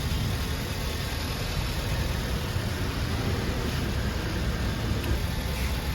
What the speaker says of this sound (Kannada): ಒರಿಜಿನಲ್ ಸುಜುಕಿ ಇಂಜಿನ್ ಇದ್ದಾನೆ,